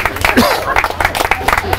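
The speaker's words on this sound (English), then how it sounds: "Give this young man a big hand of applause." An audience gives a young man a round of applause at an amateur radio talk. Scattered sharp claps patter beneath a voice that keeps talking over them.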